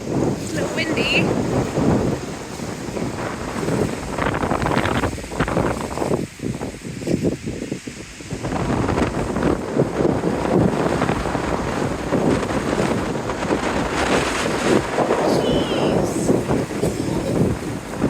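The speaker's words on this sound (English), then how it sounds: "It's a little windy." Wind blows across Whitewater Lake during a canoe trip in Wabakimi, a loud, continuous gusty rush buffeting the microphone with a brief lull midway, and people talk faintly underneath.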